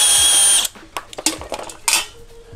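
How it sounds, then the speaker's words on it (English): A power drill spins small 10 mm bolts out of a vehicle battery tray, opening with a loud, steady whir that cuts off, then short bursts and clicks of metal handling close by. "I'm just gonna cheat and use a drill"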